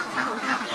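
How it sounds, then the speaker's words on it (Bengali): Campbell ducks on a duck farm, a flock of about 350, quacking in a short, close, raspy burst with several overlapping calls and no talk. "এটা হলো ক্যাম্বেল হাঁস।"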